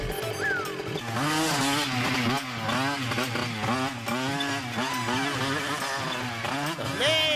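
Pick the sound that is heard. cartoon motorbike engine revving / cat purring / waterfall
cartoon motorbike engine revving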